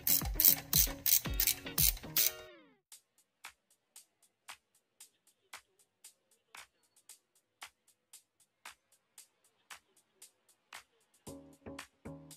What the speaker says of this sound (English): get your bolts back in there and tighten her down.